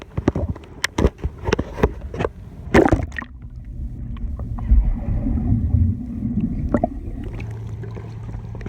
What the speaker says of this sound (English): You saw him blowing some bubbles right there?